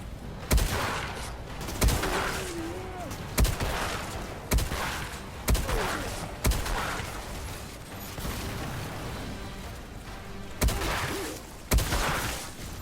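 Shotgun blasts from the video game Outriders boom roughly every second or two, each a loud, sharp report followed by a brief rumbling tail, with no voices.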